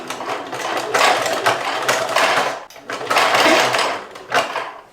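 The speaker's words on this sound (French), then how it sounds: "je continue de coudre ce biais en cuir" A sewing machine stitching leather bias binding runs in two loud, close whirring bursts with a short stop between them and a brief mechanical clunk at the end.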